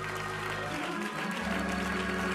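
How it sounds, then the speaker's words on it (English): A church congregation claps their hands in praise, a continuous dense patter with a low musical drone underneath. "Would you clap your hands unto the Lord?"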